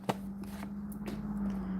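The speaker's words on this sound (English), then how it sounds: "Let me shuffle again." Soft papery riffling of tarot cards being shuffled by hand, a low steady rustle with a few light taps, quiet and close under a faint hum.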